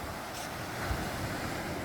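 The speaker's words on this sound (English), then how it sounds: "the sound of the waves in the background in itself is a kind of therapy" Ocean waves washing onto the Icacos shoreline, a continuous broad rushing surf mixed with wind noise on the microphone, fairly soft and steady with no talking.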